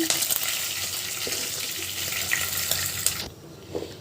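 Fried hilsa fish lifted out of hot oil, a loud close sizzle with faint clinks of a utensil that suddenly drops away near the end, leaving quieter kitchen sounds.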